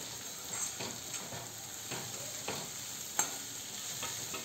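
Mixed vegetables for a bharit veg cheese bite steaming and cooking in a pan, with soft stirring scrapes and light sizzling at low volume, a few faint clicks of the spoon against the pan.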